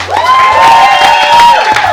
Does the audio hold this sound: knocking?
no